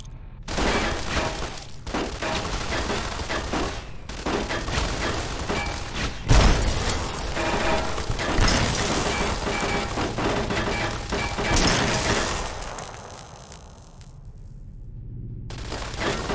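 Pulse grenades going off during a firefight in Fallout: New Vegas, a dense, loud, sustained barrage of crackling bursts that thins out briefly near the end before picking up again.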